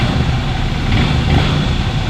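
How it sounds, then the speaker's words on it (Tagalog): Honda CRF150L motorcycle engine running at idle, a steady continuous low rumble close by, without any clear rise in revs, and no talking. "Pakinggan nyo yung kanyang makina."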